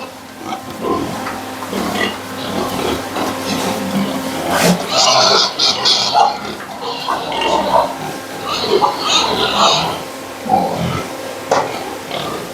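Two large pigs, black hogs being weighed on a farm, grunt and snuffle repeatedly in irregular bursts close by, with people talking and rustling between the grunts.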